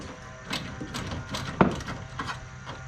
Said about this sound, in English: I'm just using a 1/2-inch deep socket and a 1/2-inch box wrench.